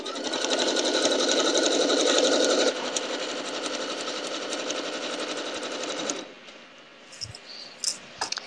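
A sewing machine runs steadily while stitching a log cabin quilt, a loud continuous whir for about six seconds that stops abruptly, followed by a few soft clicks and handling noises.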